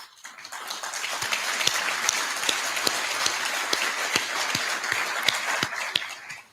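Applause from an audience at a 2022 Meridian State of the City address, a dense, steady patter of many hands clapping that swells in and holds for several seconds before tapering off.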